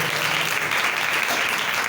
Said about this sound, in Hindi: जोरदार तालियां खुदावंद के लिए बजा दें।